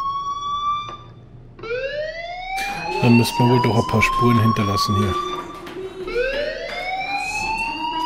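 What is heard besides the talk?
fire alarm ringing in video game Life is Strange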